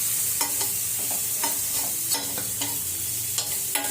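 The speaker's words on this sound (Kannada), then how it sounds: "ಒಂದು 2 ಮಿನಿಟ್ಸ್ ಇದನ್ನು ಫ್ರೈ ಮಾಡಬೇಕು" Food fries in a pan with a constant bright sizzle, while a utensil stirs and scrapes against the pan in a string of distinct clinks and scrapes spaced unevenly, close and clear, with nobody speaking.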